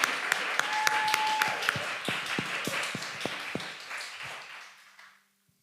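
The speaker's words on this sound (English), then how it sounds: "Can we give a round of applause to our panelists?" Audience applause for a panel of Black environmentalists at a conference session, a sustained round of clapping with scattered sharp claps that gradually thins and fades out near the end.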